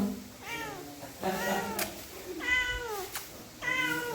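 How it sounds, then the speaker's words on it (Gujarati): A cat arriving to drink milk meows four times in drawn-out, rising-and-falling calls, close and fairly loud, spaced about a second apart over a faint domestic background. "મીંદડી આવી ગઈ છે દૂધ પીવા."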